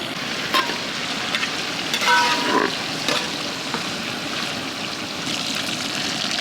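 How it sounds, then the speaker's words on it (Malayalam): Chicken frying in a pan gives a steady, close hiss of sizzling oil throughout, with occasional brief clinks and stirring scrapes layered over the continuous crackle. "ഇനി നമുക്ക് ചിക്കൻ പൊരിച്ചെടുക്കാം."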